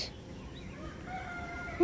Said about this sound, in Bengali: মুরগিগুলো কেমন ডাকছে দেখেছিস